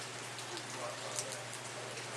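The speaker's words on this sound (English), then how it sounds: "Come on, it's raining." Steady rain patters softly across surfaces in Costa Rica, a faint, even hiss with scattered drop ticks and no other sound over it.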